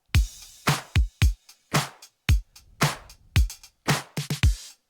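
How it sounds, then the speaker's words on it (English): Synthesized funk-style drum loop in a rebuild of a song, with snare, layered claps, cymbals and hi-hat hitting in a tight repeating groove, loud, close and punchy with sharp transients and no voices. "And when you add some cymbals and hi-hat, then you get the full drum loop that sounds like this."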